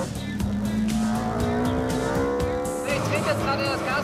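A BMW M3 Group A touring race car engine revs steadily, its harmonic drone rising slightly in pitch, loud and close throughout, with someone speaking over it.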